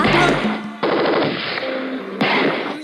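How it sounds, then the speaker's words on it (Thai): Gunshots fired into the air at a live Thai music procession: loud, sustained bursts of automatic gunfire, three rapid volleys in a row with brief shifts between them, close and harsh. "เสียงปืนยิงขึ้นฟ้าเป็นสัญญาณว่า"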